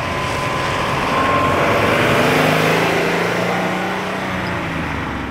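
Steady, loud engine drone from a 1998 Subaru Legacy GTB wagon with a factory twin-turbo boxer engine and six-speed gearbox. The pitch rises and falls slightly as the engine runs continuously with no talk.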